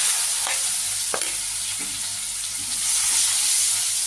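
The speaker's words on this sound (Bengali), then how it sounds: "এবার আমি পেঁয়াজ কুচিটা দিয়ে দিলাম" Chopped onion with black cumin seeds fries in oil, giving a constant close hiss broken by a few sharp spatula scrapes and stirs; no one speaks.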